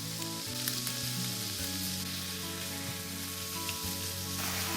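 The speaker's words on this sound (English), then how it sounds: "When the onions are translucent, add the ground beef first. Break up the meat with a spatula." Ground beef sizzles with onions in a hot pan while a spatula breaks up the meat, a continuous close frying hiss with light scraping and no voices.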